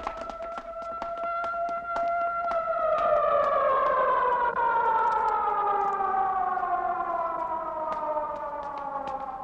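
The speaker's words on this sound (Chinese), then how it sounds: "在嘹亮空旷的警报声中" A loud wartime air-raid alarm siren wails continuously in a war film, its long rising and slowly falling tones sounding alone and dominating throughout with strong harmonics.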